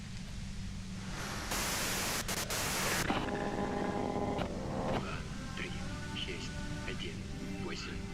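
White noise from the video game Disco Elysium, a steady broadband hiss that swells louder for a stretch, with scattered tones and a voice talking over it.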